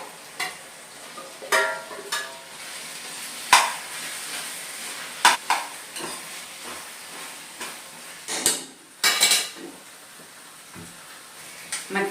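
Paneer pieces go into a potato and tomato curry frying in a pan, with a steady low sizzle broken by several sharp scraping stirs and clinks of a spatula against the pan, no talking.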